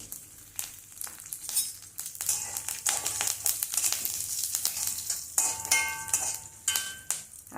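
Curry leaves, dried red chillies, asafoetida and fenugreek powder crackle and sizzle in hot oil in a pan, a steady spitting fry with sharp pops and some stirring scrapes, close and moderately loud.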